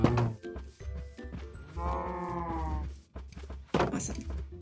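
Cows in the video game Minecraft moo in a short burst of low, drawn-out calls. One long harmonic moo stands out clearly in the middle, with a few other brief animal sounds around it and no talk.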